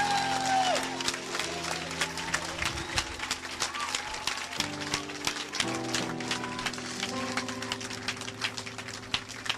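A church congregation claps steadily in rhythm, acclaiming the Lord, with sustained organ or keyboard chords underneath and the crowd's rhythmic clapping continuing throughout.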